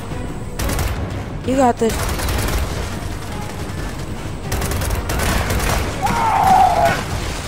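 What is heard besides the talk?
gunfire in Gears of War 4 video game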